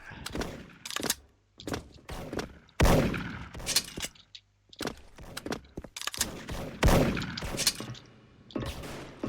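A gold PSG-1 sniper rifle fires in the Special Force online shooter, with sharp, loud cracks repeating at irregular intervals, each trailing into a brief echoing tail amid other game noises.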